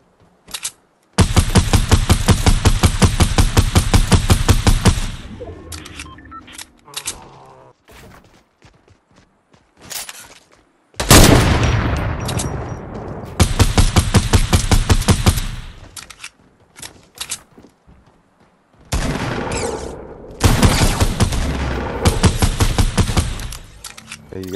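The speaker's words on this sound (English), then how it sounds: "Shoot at the wall." Loud video game gunfire: long sustained automatic bursts of rapid shots separated by short gaps and scattered single shots, close and dominant throughout.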